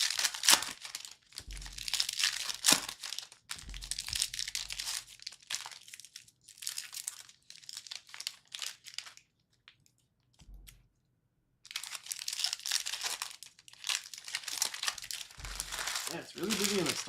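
Panini football card packs torn open in a busy card shop, bursts of crinkling foil wrapper and tearing noises in several clusters separated by brief quiet gaps.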